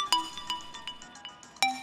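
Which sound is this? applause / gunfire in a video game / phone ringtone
phone ringtone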